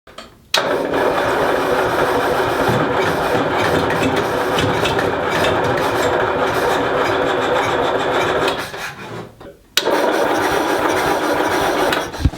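A car engine, just fitted with a new distributor, cranks and starts, running loudly and steadily, dips briefly near the end, then catches again and keeps running.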